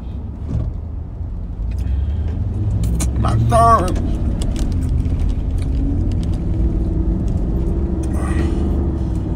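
Car cruising at highway speed around 70 mph, a steady loud road and engine rumble filling the whole stretch, with a brief voice-like sound in the middle.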